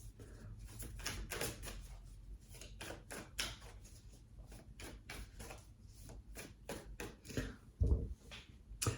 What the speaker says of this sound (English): I start shuffling the tarot